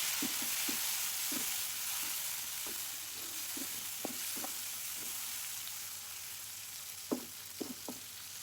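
Tomatoes fry with salted, softened onions in a pan, giving a soft, steady sizzle broken by scattered scrapes and taps of stirring, some sharper toward the end, with no talk.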